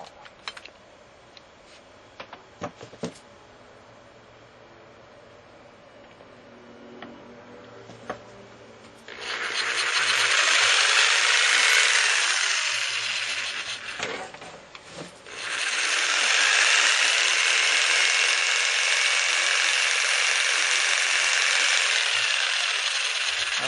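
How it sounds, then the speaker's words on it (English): A cordless saw powered by a small 12-volt battery pack spins up loud and steady, drops briefly mid-run, then returns to a sustained whine, with scattered clicks and handling noise before it starts. "Let's try this saw."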